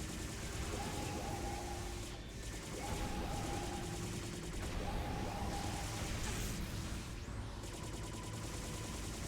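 Gunfire in the P.N.03 video game, dense sustained bursts of shooting with whooshing effects over a loud, steady game soundtrack.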